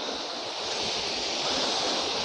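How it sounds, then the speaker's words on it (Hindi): A waterfall on a mountain route between Kapkot and Munsiyari roars as a steady, broad rush of water, close and continuous, with no voices. "तो पहुँच चुके हैं हम झरने के बिल्कुल पास में।"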